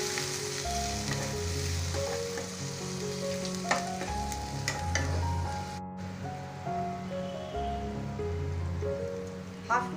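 Tomato masala for Bengali-style baingan masala frying in a pan on low heat as water is poured in and stirred, a steady crackling sizzle with scraping stir strokes and brief splashes, close and continuous.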